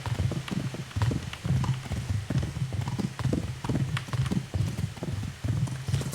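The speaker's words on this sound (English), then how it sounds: "I'm not bad at driving this horse." Horse hooves clip-clopping at a steady walking rhythm in the medieval game Kingdom Come: Deliverance, loud and close, with repeated regular beats and no talk over them.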